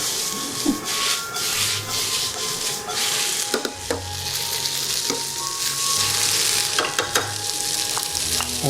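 Tomatoes being stirred in a hot, sizzling pan during home cooking: steady broadband frying hiss throughout, with repeated scraping and clinking strokes of a utensil against the pan, close and fairly loud, no talking.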